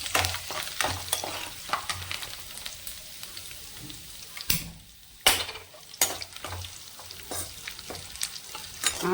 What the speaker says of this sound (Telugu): ఆయిల్ వేస్తానండి, ముక్కట్లో ఎండుమిరపకాయలు వేస్తున్నాను చక్కగా, కాస్తంత కరివేపాకు